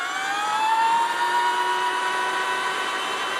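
An Energica Eva electric motorcycle gives off a steady high-pitched motor whine with layered tonal harmonics that rise slightly at first, then hold even and loud, close by and with no one speaking.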